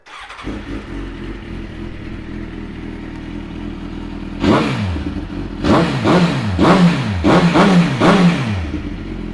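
A 2011 Suzuki GSXR1000 Bautista motorcycle idling low and rumbling, then revved in four or five quick sharp bursts that rise and fall, close and loud.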